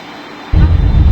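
An Airbus A319 touches down in a flight simulator game, a sudden loud low rumble that begins halfway through after a quiet cockpit hum.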